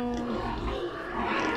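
Piglets on a farm squeal and grunt at close range in a short, busy burst of overlapping calls, faintly recorded.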